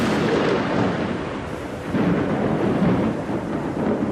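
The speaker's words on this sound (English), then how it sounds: "he heard thunder that sounded like the angriest, most frightening drum in the world" Thunder during a storm, a continuous deep rolling rumble with swelling surges, loud and steady throughout, with no voices.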